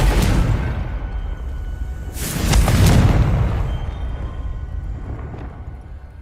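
A Confringo blasting spell goes off in the video game Hogwarts Legacy, a booming explosion with a whooshing burst that swells and slowly fades, followed by a quieter tail.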